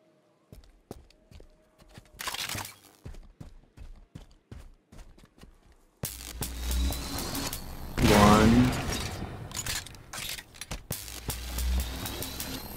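Repeated railgun shots and impacts hit vehicles in the video game Halo 5, with sharp bursts, a mid-clip explosion-like roar and rumbling vehicle noise, plus a few footstep-like clicks early on.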